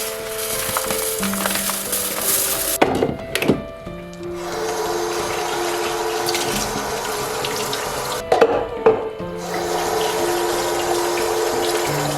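Tap water runs steadily into a sink while rice is soaked, with a couple of brief clattering interruptions partway through; no one speaks.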